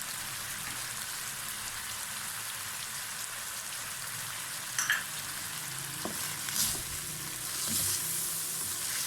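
Chicken frying in a karahi for green chicken karahi gives a steady, dense sizzle across the whole stretch, with a few sharper spatters and stirring scrapes near the end and no talk.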